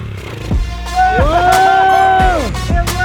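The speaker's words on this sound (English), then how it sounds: "Give it some gas when you shift." A Yamaha dirt bike fitted with a cheap Temu replacement engine revs up and holds a whining, rising pitch for about a second before dropping off. Sharp knocks and bursts sound before and after, with no speech.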